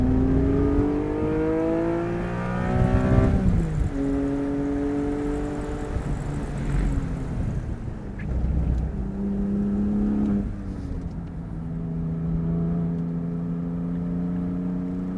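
A sports car on a track lap, engine revving hard and climbing in pitch through several gears with quick drops at each shift, a steady close-up interior drone throughout and no talking.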